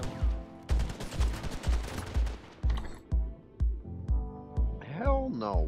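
Gunfire from the video game SOCOM comes as a string of sharp, evenly spaced shots, about eight in a row, loud and close, followed by a rising electronic game tone at the end.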